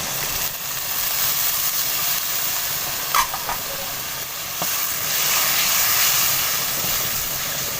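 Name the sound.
frying tomatoes with garlic ginger paste in a pan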